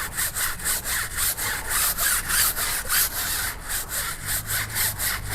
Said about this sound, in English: And now we'll scrub in the Gyeon.